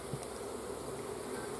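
Honey bees buzz around an opened hive, a steady, dense hum holding at an even, moderate level throughout with no voices.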